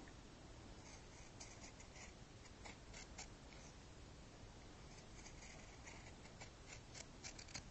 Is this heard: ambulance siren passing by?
no